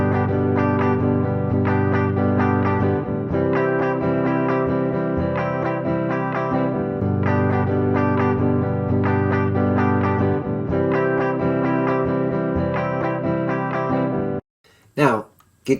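Two interlocking rhythm guitar parts play together with distortion and effects, repeating a steady chordal pattern in even phrases before stopping abruptly near the end.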